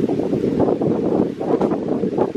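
Strong gusts buffet the microphone at a waterfront park overlook, a loud continuous low rumbling roar that swells and dips, with no speech.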